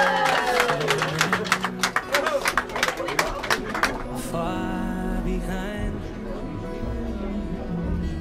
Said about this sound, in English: a big round of applause for the one